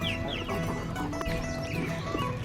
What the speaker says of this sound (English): These are the mid-age chicks.